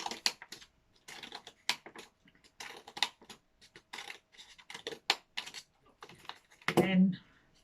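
Scissors cut through folded paper in a Chinese New Year craft, giving a run of close, crisp snips and rustles, with a denser rustle of handling near the end and no talk.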